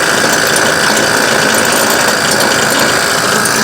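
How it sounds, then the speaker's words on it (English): Air suspension compressor on a Ford Expedition runs loud and steady at close range, a continuous mechanical whir with a fine rapid ratcheting rattle, no talk. "looks like I'm going to change that air compressor out"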